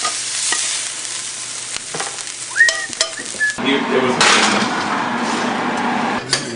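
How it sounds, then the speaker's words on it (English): Fish sizzles and spits as it fries in a hot pan while utensils scrape and clink against it, the frying growing louder and steadier partway through. "we're gonna start frying up this fish."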